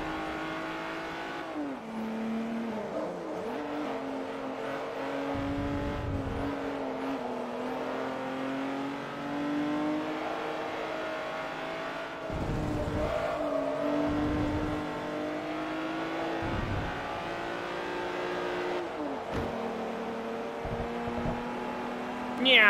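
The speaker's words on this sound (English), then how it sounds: "This is how the car sounds stock. This is a beautiful sounding car." A stock car engine in Forza Motorsport 3 revving and shifting through gears, a sustained close engine drone rising and falling in pitch with repeated gear changes, loud and continuous.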